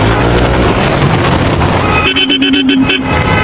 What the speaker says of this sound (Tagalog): Lakas pa makabusinan ng mga kupals, ha.